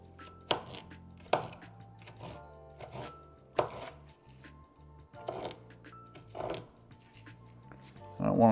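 A knife dices pickles on a cutting board for a cheeseburger salad, with a series of sharp, close chops at irregular intervals and softer scraping in between.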